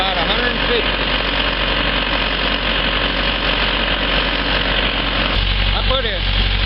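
A Hydro-Gear HDX750 hydrostatic unit's drive engine idles up steadily to warm its oil, a loud continuous mechanical drone with a slight shift in tone near the end.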